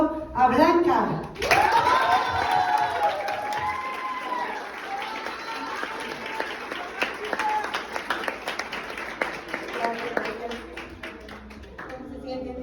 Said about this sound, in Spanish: quiero que recibamos con un fuerte aplauso a Blanca